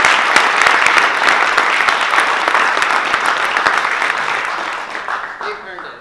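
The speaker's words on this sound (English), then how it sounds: "Let's give them a round of applause." An audience claps for a group of students, a dense, loud round of applause that holds steady for several seconds before thinning out toward the end.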